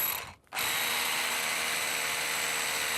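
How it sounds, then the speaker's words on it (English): A power drill boring into an old chateau wall during DIY renovation, a steady loud whirring grind that starts after a brief pause and runs continuously at close range. "Instead, I'm using my power drill for a more targeted approach."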